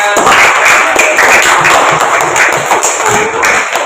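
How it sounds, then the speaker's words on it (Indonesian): Students in a classroom applaud a fellow student group, with dense, steady clapping that fills the room throughout and stays loud without a break. "Kasih tepuk tangan temennya"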